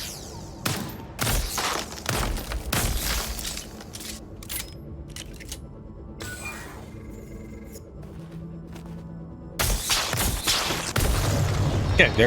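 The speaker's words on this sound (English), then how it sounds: "Okay, there's the explosion." A video game explosion in Lost Skies: a cluster of loud booming blasts and crackling bursts early on, a quieter stretch with scattered hits, then a renewed heavy rumble toward the end.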